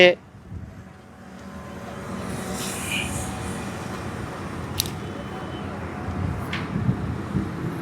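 A 2010 Mahindra Xylo driving on a highway, its steady road and engine rumble with wind noise rising and holding throughout, and someone talking over it.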